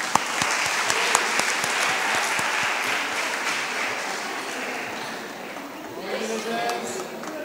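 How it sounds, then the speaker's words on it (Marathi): Sustained audience applause for the winning team at a Sanskrit group song competition, dense and even for several seconds, swelling slightly toward the end. "परत एकदा विजेती टीमसाठी टाळ्या"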